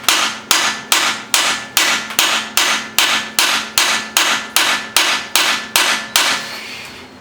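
Metal hammer taps seat a wheel bearing in a Ford F-150 / Expedition 9.75-inch differential: about fourteen sharp, evenly spaced, ringing strikes, close and loud, each fading before the next.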